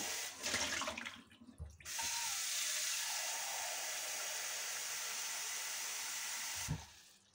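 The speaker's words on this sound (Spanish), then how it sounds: "En lo que cambio este agua, desechamos el agua" Water being changed and poured away into a kitchen sink while making homemade candied orange: a brief clatter, then a steady, loud rushing flow lasting several seconds before cutting off with a knock, with no talking.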